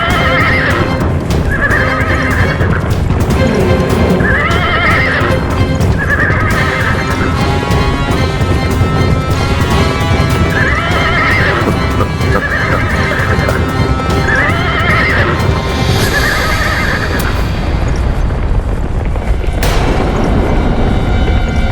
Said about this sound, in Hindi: रथ की गड़गड़ाहट रुक गई